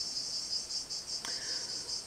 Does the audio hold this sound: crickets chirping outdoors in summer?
yes